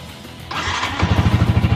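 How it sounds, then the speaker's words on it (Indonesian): A 2014 Yamaha New Vixion Lightning motorcycle engine cranks and catches, settling into a loud, close, rapid throbbing idle with a steady pulsing beat, no talking over it. "Oke, kita tes hidupin suara mesinnya"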